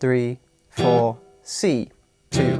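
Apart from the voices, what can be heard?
No everyday noises stand out.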